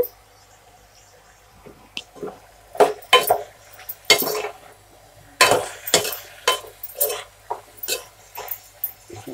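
Softened soya chunks (meal maker) tipped into a pan and stirred, giving a run of irregular clinks, scrapes and soft squishy knocks of spoon against metal, close and moderately loud with short pauses between strokes.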